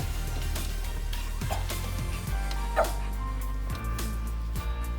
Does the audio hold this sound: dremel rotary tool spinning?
no